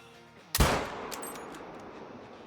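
A single hunting rifle shot at an animal in the game Call of the Wild, a sharp, loud crack following a quiet stretch, then a long rolling echo that fades slowly.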